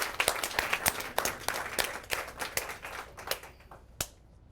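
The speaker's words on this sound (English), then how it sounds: "So how about a big round of applause for Chef Wyatt" A cooking class audience claps for a chef: a small group of hands clapping in a quick, uneven rhythm at fairly low level, tapering off into a few last scattered claps.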